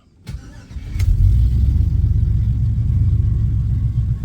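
A 1979 Camaro with a swapped LS V8 cranks briefly, catches and settles into a loud, steady, deep idle rumble close by.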